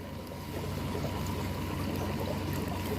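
A power gravel cleaner pumps aquarium water in a tank, giving a steady, close pouring and trickling wash of water with a low motor hum underneath, continuous throughout.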